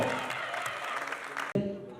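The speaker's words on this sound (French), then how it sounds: "Vraiment, on applaudit très fort pour elle." Applause from a studio audience on a French-language talk show, a dense steady patter of clapping that stops abruptly near the end as a voice begins over a lighter patch.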